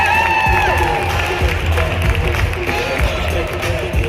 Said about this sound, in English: How about a nice round of applause for all of them out there?